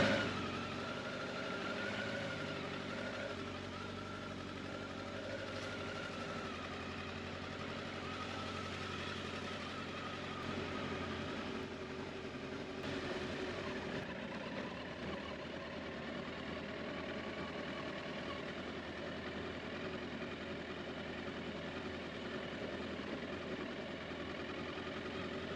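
Motorcycle engine with freshly rebuilt carburetors runs steadily for the whole stretch, a constant mid-level drone with a low rumble and no clear revving, heard alone without voices.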